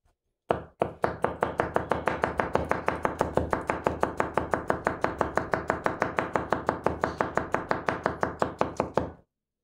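Petty kitchen knife with an S grind and CPM S90V steel slicing a cucumber on a cutting board, a long, steady run of about forty crisp, evenly spaced chops, close and clear, with no voices.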